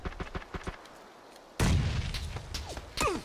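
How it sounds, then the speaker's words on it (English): Gunfire in PUBG coming from a shed: a string of sharp rifle cracks at a moderate distance, then a loud, heavy burst of nearby shots and booming impacts, with no talking. "Getting shot at from shed"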